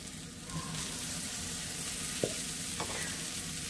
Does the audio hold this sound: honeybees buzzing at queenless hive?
no